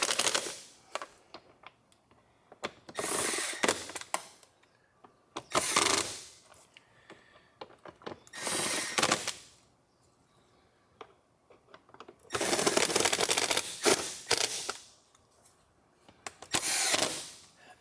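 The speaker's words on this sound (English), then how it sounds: "So I'm just going to bring them down to touch with my very small impact driver." Small impact driver running screws into a plastic air filter housing on a Jaguar XJ V6 engine, several bursts of rapid rattling hammering separated by short pauses and light handling clicks.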